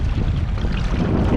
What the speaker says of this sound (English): It's gonna be a windy one